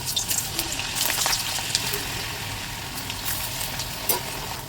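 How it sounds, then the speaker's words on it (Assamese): Cut potatoes fry in hot oil in a pan, a dense continuous crackling sizzle with scattered pops, close by and without talk. "আলুখিনি মই ভালদৰে ফ্ৰাই কৰি ল'ম"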